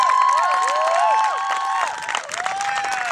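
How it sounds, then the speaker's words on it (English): An outdoor audience at an Occupy Isla Vista talk applauds and cheers, with steady clapping, whistles and scattered shouts for the full stretch, dipping briefly before swelling again. "Keep the applause going"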